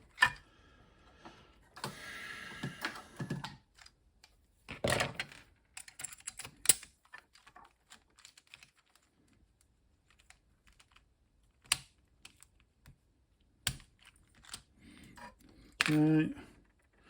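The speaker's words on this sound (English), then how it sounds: "These keys come off." Keycaps are pried and pulled off the keyboard of a TI Silent 700 Model 703 terminal, giving scattered plastic clicks, snaps and rattles in short bursts separated by quiet pauses, with a voice speaking intermittently nearby.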